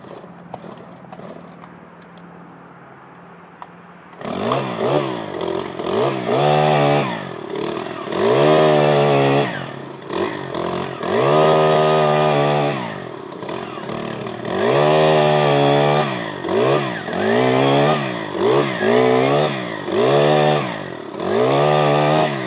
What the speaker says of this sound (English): We cheat a little bit, we use an auger, so it's going to be a little loud for just a second